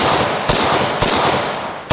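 Loud AK rifle shots in 7.62 or 5.45 ring out alone, three or four sharp cracks spaced about half a second apart with short echoing tails.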